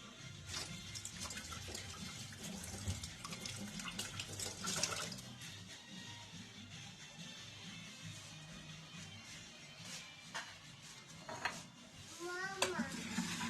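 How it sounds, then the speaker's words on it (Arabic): Hands being washed under a running kitchen tap, a faint, steady stream of water splashing with small clatters, while voices, including a child's, talk quietly in the background. "نغسل يدي ونرجع لكم"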